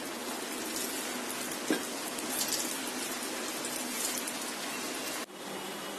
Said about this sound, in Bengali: এখন আমি বাকিগুলিও তেলের মধ্যে আবার ছেড়ে দিচ্ছি। একই প্রক্রিয়ায় ভেজে নিতে হবে।